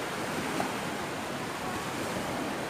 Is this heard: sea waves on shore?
yes